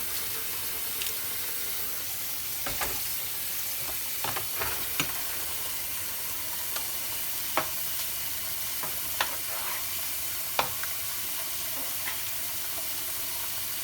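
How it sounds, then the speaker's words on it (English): Rice being stirred into simmering New Orleans style jambalaya in a pot, a steady bubbling sizzle broken by scattered scrapes and knocks of a spoon against the pot. "we're just gonna stir that in there and just allow it to simmer on a low"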